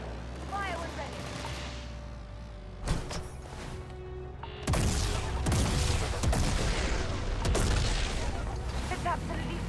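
Spaceship weapons firing during combat in the video game Starfield, a dense barrage of loud booming shots and blasts that builds after a few seconds into continuous heavy fire with explosions.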